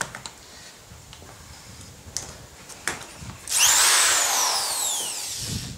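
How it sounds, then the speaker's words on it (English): A few faint knocks come first, then an electric hand drill whines straight through wood, its pitch sweeping as it bites and keeps grinding steadily to the end. "using a hand drill, good old electric hand drill, I'm gonna just drill a hole straight through"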